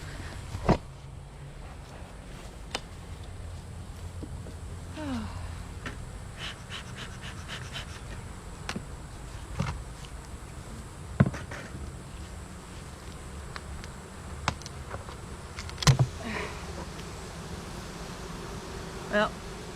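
Honey bees buzzing around an opened hive, a steady low drone throughout with occasional sharp clicks and knocks from handling nearby.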